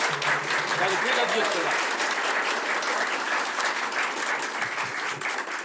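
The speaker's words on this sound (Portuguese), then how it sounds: "uma salva de palmas" Sustained crowd applause from many hands at a gathering that includes Indigenous guests, a thick, even clapping texture with a few voices faintly underneath.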